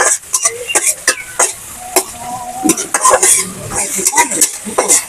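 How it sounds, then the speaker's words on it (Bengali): Dried fish (shutki) frying in a pan over a wood fire, a steady sizzle broken by repeated scraping and clinking of a stirring utensil against the pan, with faint voices in the background. "তো শুটকিটা একটু ভেজে নিচ্ছি।"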